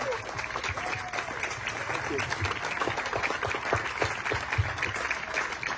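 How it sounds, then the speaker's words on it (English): An audience at a campaign event applauds Larry Elder with a sustained round of clapping at moderate volume, while a voice talks over it. "let's give Larry Elder another round of applause"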